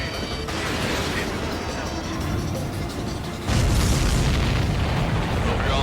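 Heavy explosions in the combat flight game Ace Combat 7, a dense, rumbling wall of booms and blasts that grows louder and deeper partway through, under a continuous roar.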